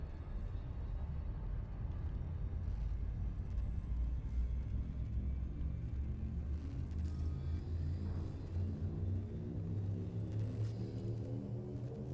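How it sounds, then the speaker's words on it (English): A Frameshift drive charging in the space game Elite Dangerous builds as a deep, low rumbling hum that swells with rising harmonic tones over about twelve seconds, quiet and continuous with no voices. "Frameshift drive charging."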